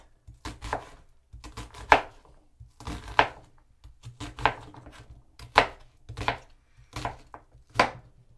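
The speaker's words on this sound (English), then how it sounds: "I'm going to cut this in half, and then I cut it like 1, 2, 3, like that." A knife chops through eggplant on a cutting board in seven sharp, evenly spaced strokes, each a crisp thunk against the board, close and clear with no talking.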